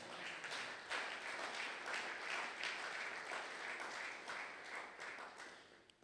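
A church congregation at a Sunday praise service applauds, a dense, distant-sounding wash of many hands clapping that swells and holds for several seconds before tapering off.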